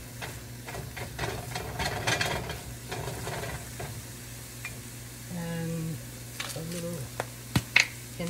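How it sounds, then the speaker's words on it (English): Chopped garlic being stirred into meatball sauce in a sizzling pan, a spoon scraping and clacking against the pan over steady frying hiss, with a few sharp clicks near the end. "And we're going to stir that in."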